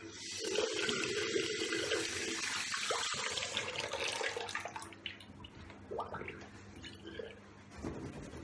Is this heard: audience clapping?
no